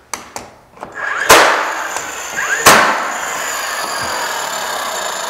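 Pneumatic nail gun firing brad nails into door trim during finish carpentry, several sharp loud reports with a hissing air burst after each, close by.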